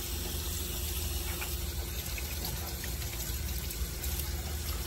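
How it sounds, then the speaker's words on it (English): Water runs steadily as it rinses a grinding machine's blade after sharpening, a continuous close splashing hiss with no talk. "after you grind the blade, you can use the water to clean the blade like this."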